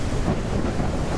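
A thunderstorm in Ranch Simulator rumbles with deep, rolling thunder over a steady hiss of heavy rain, loud and close, filling the whole brief moment without voices.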